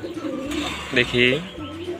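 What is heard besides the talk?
pigeons cooing on rooftop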